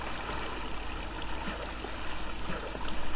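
Flowing water in Minecraft rushes and splashes with a steady, dense noisy wash, like a continuous stream, fairly loud and unbroken with no voices.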